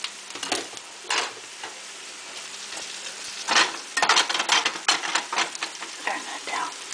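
Fish fries in a pan with a crackling sizzle and bursts of spattering oil, rising and falling in loud irregular pulses at close range, with no talk.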